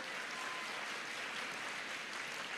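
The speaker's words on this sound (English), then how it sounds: "Can we give all these friends a warm round of applause?" A large audience applauds warmly at a motivational summit, steady dense clapping filling the whole stretch at a moderate distance, with no voices over it.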